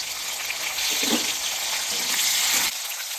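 Chopped tomato tipped into a pan of potatoes frying in oil for a raw green banana kofta curry, giving a brief wet sizzle and splash that swells, holds steady and then cuts off.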